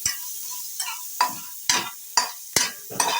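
Onion with ginger garlic paste sautéed in a pan for veg kothu parotta, a series of separate, close scraping and sizzling bursts as the spatula stirs, with quiet gaps between them.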